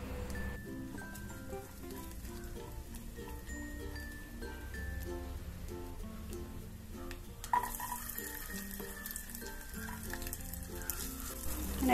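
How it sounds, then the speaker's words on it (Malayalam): Chopped cashew nuts sizzling in hot ghee in a pan, a soft, steady frying hiss with light crackles under background music, rising a little louder near the end. "ഈ നെയ്യ് ചൂടായി വന്നാൽ ഇതിലേക്ക് നമുക്ക് അണ്ടിപ്പരിപ്പ് ചെറുതായി കട്ട് ചെയ്തത് ഇട്ട് കൊടുക്കാം"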